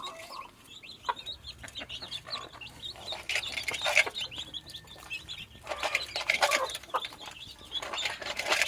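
Hens scratch through scattered bran in a yard, giving soft, close, intermittent clucks and chirpy calls with occasional scuffling and brief wing flaps, fairly quiet overall and without speech.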